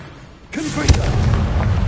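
In Hogwarts Legacy, a Confringo blasting spell bursts with a sudden loud boom, then a sharper crack a moment later, ringing into a rumbling, fiery tail.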